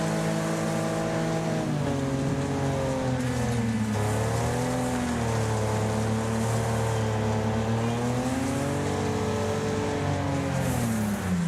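Engine of a race car in the Wreckfest video game droning and revving steadily as it drives, pitch rising and falling through gear changes, loud and continuous with no talk.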